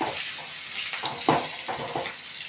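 Onions sauté in hot oil for a Tamil fish curry, giving a steady close sizzle broken by a few sharper stirring scrapes.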